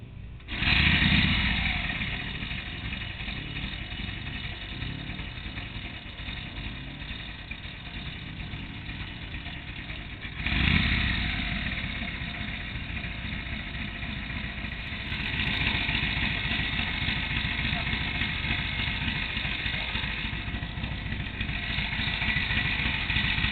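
A pre-war Polish Sokół 1000 M111 motorcycle engine runs steadily and loudly throughout, its idle thumping unbroken, with brief revving surges partway through.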